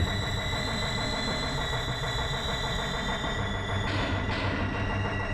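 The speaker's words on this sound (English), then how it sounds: "I don't know what's happening in that soundtrack. Very industrial music." Industrial soundtrack music from the Silent Hill video game, a dense, droning mechanical texture like a rumbling engine with sustained tones, steady and loud throughout, with a couple of brief metallic bursts near the end.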